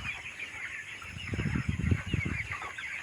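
Chickens on a poultry farm clucking in short, rapid bursts that build toward the middle, close by over a constant background hum.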